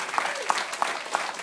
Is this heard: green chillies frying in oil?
no